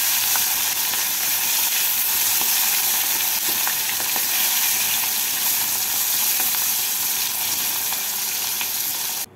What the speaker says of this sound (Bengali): বাকি মাছগুলোকেও একইভাবে ভেজে নেব